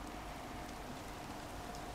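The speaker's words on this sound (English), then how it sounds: "Now it started raining." Steady rain hiss in the video game Days Gone on PS5, a dense even wash of falling drops, faint and continuous with no voices.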